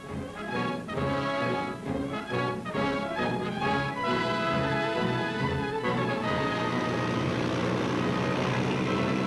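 World War II propeller transport plane engines drone steadily and loudly in flight, with a pulsing beat from the props that smooths into a constant roar.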